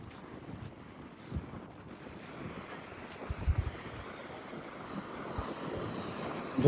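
A river rushes strongly past at the Lalpura river site, a soft, steady wash of flowing water mixed with gusty wind buffeting the microphone, gradually swelling slightly louder.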